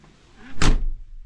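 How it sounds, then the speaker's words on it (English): A door swings shut with a single solid thud-slam, close and fairly loud, preceded by faint shuffling and followed by a short fading rattle, with no talk. "Hang on, I'll close the door, okay?"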